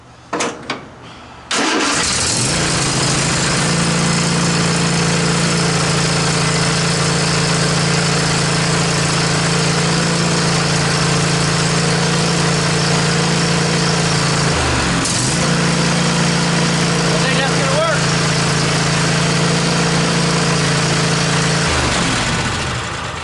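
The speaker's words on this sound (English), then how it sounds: "Give her a little more throttle." A Cub Cadet engine that has sat all year runs loud and steady at higher throttle for about twenty seconds after a brief start-up, with a couple of short dips in speed.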